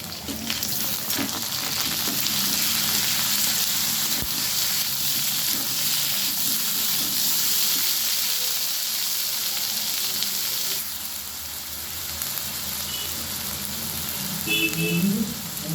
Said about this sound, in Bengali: এবারে আমি দিয়ে দিচ্ছি আদা বাটা, রসুন বাটা আর পেঁয়াজ বাটা।